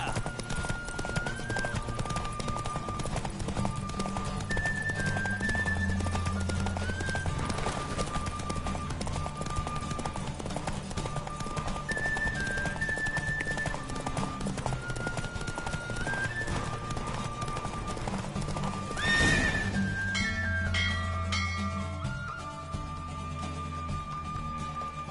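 Horse hooves clip-clop at a steady gallop in The Witcher 3 on PS4 Pro, with an occasional neigh, under a continuous game music score that runs throughout.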